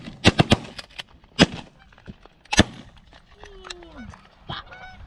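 Shotguns fire at geese during a goose hunt: several sharp, close blasts, some in quick pairs. Goose honks and a drawn-out goose call carry between the shots.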